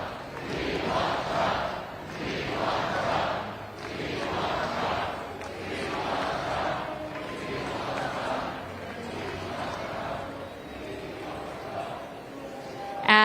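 A large rally crowd in Conway, South Carolina, awaiting President Trump, chants a short slogan over and over in a steady, repeating rhythm, loud and massed, echoing across the venue.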